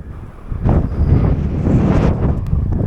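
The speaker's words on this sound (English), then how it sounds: "The strength of the wind up here today is incredible" Strong, gusting wind buffets the microphone on an exposed rise in the Simpson Desert of the Australian outback, roaring steadily and loudly with surges throughout, and no voices are heard.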